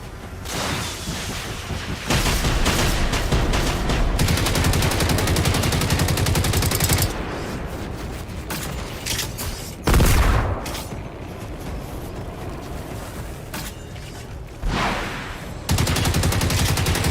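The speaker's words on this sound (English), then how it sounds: "It'd be a little easier if I had a LMG instead of this assault rifle." Assault rifle gunfire in the video game Generation Zero: loud, dense bursts of rapid shots with booming impacts, firing in long sustained stretches broken by short pauses.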